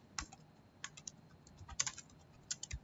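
A name is typed on a computer keyboard in quiet, scattered keystrokes, sharp light clicks at irregular intervals, near and soft with no talk.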